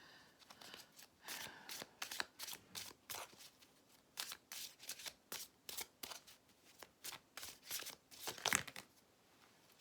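Tarot cards being shuffled by hand, a run of quick riffling and slapping bursts in an uneven rhythm, close and fairly quiet, with no talking.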